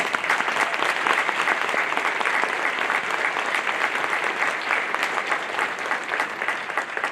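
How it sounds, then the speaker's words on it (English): An audience at a school honor band concert gives sustained applause for administrators, a dense and even burst of many hands clapping that fills the room for several seconds without letting up. "Let's give them a big round of applause."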